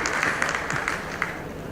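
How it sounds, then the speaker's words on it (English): An audience at a Mumbai AI panel discussion applauds the panelists: a brief, steady wash of clapping from many hands, fairly even in level with a few sharper claps standing out. "Give them a big round of applause, please."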